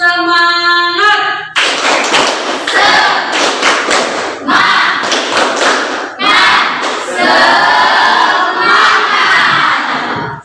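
Schoolchildren in a classroom perform a rhythmic tepuk semangat clapping chant, loud bursts of patterned claps and shouted call-and-response voices, opening after a brief tone and repeating in several phrases.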